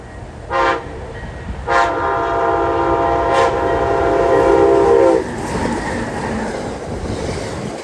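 Freight train horn sounding on a rail line, three short blasts followed by one long sustained blast, loud and near, with rumbling rail noise continuing underneath after the horn stops.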